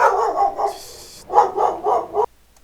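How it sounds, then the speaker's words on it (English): A dog barks close and loud, a few sharp barks, then a brief pause and a quick run of four more barks before cutting to silence. "damn dog scared the shit out of me."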